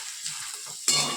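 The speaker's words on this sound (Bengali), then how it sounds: "আলু ভাজাটা প্রায় হয়ে গেছে, নামিয়ে ফেলবো" Potatoes fry in a hot wok, a steady close sizzle with stirring that swells loudly near the end; no talking.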